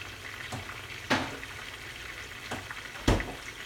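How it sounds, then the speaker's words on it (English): Alfredo sauce sizzles in a pan on the stove with a soft steady hiss and three or four distinct pops spread over a few seconds, quiet and heard from a little distance. "that sauce is popping back there"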